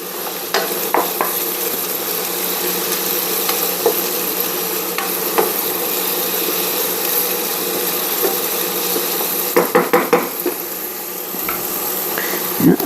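Onions sauté in a pan for Mediterranean cod and tomatoes, giving a loud continuous sizzle broken by sharp clicks and scrapes as they are tossed and stirred, with a cluster of knocks near the end.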